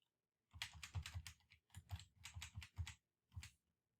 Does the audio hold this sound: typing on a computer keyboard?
yes